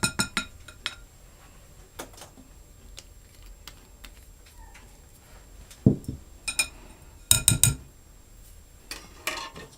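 A spoon mixing wintergreen bath bomb ingredients in a bowl, scattered light clinks and scrapes against the bowl, close and fairly quiet, with a few louder clustered taps.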